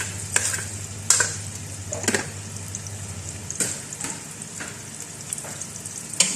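Three onions frying in oil in a pot on their way to browning, with a steady sizzle under repeated scraping stir strokes and a low hum beneath.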